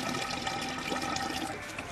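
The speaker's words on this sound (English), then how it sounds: "And we're finally getting some dribbles out the overflow." Water dribbling out of a tank's overflow pipe as the tank reaches full, a soft steady trickle and splash, faint and continuous with no voices.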